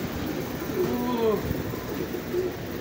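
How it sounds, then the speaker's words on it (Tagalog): Racing pigeons at a loft give a few soft coos during a race arrival, faint and close against a quiet outdoor background with low rumbling. "Sunod-sunod ang dating ng ibon."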